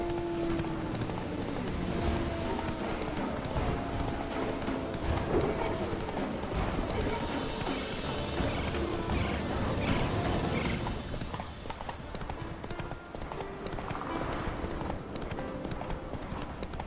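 Horse hooves clip-clop steadily and fairly close across the whole stretch, a continuous rhythmic trot with an occasional whinny and faint background patter.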